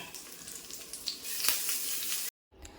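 Sardines and curry leaves sizzling in hot oil in a pan, a close, steady frying crackle with bright spits and pops that swells, then cuts out briefly before resuming.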